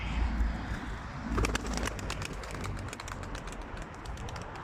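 Tumbler pigeons in a loft, soft cooing and light scratchy tapping as birds shuffle and land, a steady close mix of ticking clicks under a low hum of background noise.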